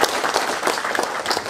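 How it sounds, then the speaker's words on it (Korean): Steady audience applause at a peace prize award ceremony, a short burst of dense clapping from a seated crowd at moderate level, continuing evenly throughout. "다시 한번 축하의 박수 보내주십시오."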